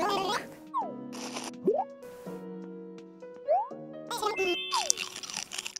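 A villager eats cherries in Animal Crossing New Leaf, a run of short cartoonish crunching and munching bites with bouncy chime-like tones, several separate bursts spaced across the clip and heard clearly on their own.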